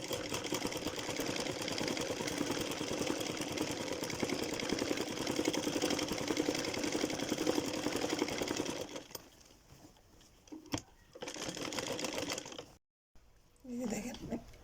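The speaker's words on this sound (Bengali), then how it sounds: "এখন আমি মাঝখানে সেলাইটা দিব।" A sewing machine runs steady curved stitches through the middle of a salwar. Its close, continuous whirring lasts about nine seconds, then stops, leaving quieter handling sounds and a brief final burst.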